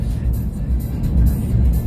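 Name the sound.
car driving over a bridge, road noise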